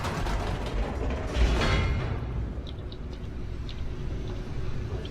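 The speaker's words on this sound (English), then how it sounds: "Oh, hey, I bet it's the elevator" Elevator descending in The Stanley Parable, a steady low mechanical rumble with faint creaks and ticking of gears, loudest in the first two seconds and then settling into a quieter continuous hum.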